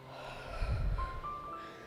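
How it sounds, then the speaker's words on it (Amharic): A single slow breath drawn in and let out close to the microphone, with a faint steady tone humming underneath. "አሁን ትንፋሽሽን ወደ ውስጥ ሳብ አድርጊ፣ ከዛ ወደ ውጭ ተንፍሽ።"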